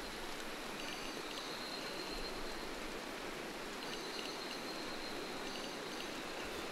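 Steady rain drums on a roof in the video game RimWorld, a dense, even hiss that holds unbroken throughout with no voices over it.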